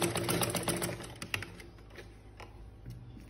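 A sewing machine stitching the sides of a fabric scrunchie headband, running as a dense, close mechanical whir that fades somewhat toward the end, with no voices.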